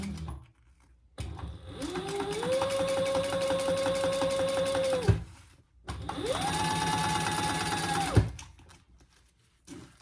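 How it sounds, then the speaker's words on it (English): Home sewing machine top stitching slowly through several fabric layers of a zippered wristlet, two sustained whirring runs of a few seconds each with a pause between, close and loud. "I would just go slow because you're top stitching through several layers here"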